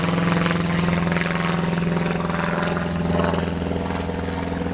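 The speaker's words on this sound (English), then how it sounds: "we got another plane going around real quickly" A banner-towing propeller airplane drones overhead in a steady, loud engine hum that swells slightly and holds throughout, with no talk.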